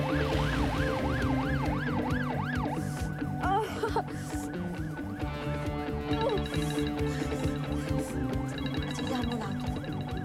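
An ambulance siren wails continuously, its rising and falling tone repeating loudly and close, with a second siren pattern joining partway through amid traffic and crowd noise.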